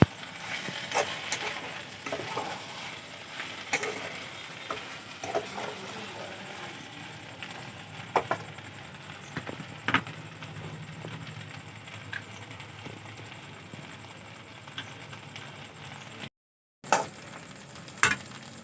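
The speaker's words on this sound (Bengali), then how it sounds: "এসব দুই চামচের মতন সস ভালো করে মিশিয়ে নেবো" Chilli sauce is stirred into frying food in a pan, with a low sizzle under sharp intermittent scrapes and clinks of a spoon, and a brief silent gap near the end.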